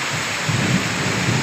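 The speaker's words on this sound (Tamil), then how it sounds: "சரியான மழை." Heavy rain pours steadily in Bangalore, a dense even hiss with low rumbling swells of thunder rolling underneath, close and fairly loud, with no talking.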